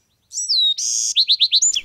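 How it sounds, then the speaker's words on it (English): Birds chirp and sing in rows of blooming orchard trees among coast live oaks, a run of clear, close, repeated tweets and a buzzy trill in quick succession. "There are all kinds of birds singing and jumping around in the trees."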